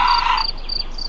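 A cricket chirps in the game We Become What We Behold, a bright, close burst of high-pitched chirping followed by fainter repeated chirps that trail off.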